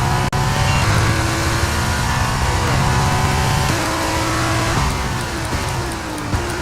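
An F2 race car in the F1 23 video game at Circuit Paul Ricard: a loud, continuous high-revving engine drone with audible gear changes and pitch shifts, steady and close throughout.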